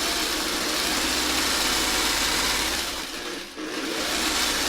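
A sewing machine stitching Christmas fabric while piecing a Y-seam four-point star quilt block gives a steady, continuous motor hum at close range that dips briefly near the end, with no talk.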